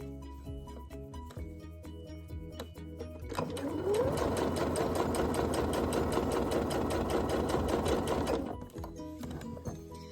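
A sewing machine stitches a Magnesium coat by Ivanne S, starting after a few seconds of quieter handling and running steadily and loudly for about five seconds before stopping, with light rattling from loose pins.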